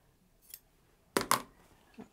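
Scissors snip through an old t-shirt being cut up for a quilt, with a faint cut near the start, then two loud close crunching snips in quick succession and a softer one at the end.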